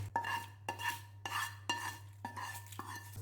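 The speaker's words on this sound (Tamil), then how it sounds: "இந்த தாளிப்பை நம்ம கூட்டில் சேர்த்துக்கலாம்" A spoon stirs tempering into bottle gourd and lentil kootu in a metal pot, producing six or so close scraping clinks at a steady pace over a low hum.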